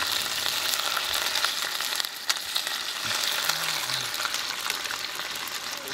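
Food sizzles and fries in a Dutch oven at a rainy campsite, a steady close crackling hiss that runs evenly throughout with faint low background sounds.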